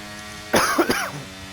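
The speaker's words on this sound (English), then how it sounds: "Excuse me for the coughing there." A single close, sharp cough with a short rough throaty burst, loud against a quiet steady background hum.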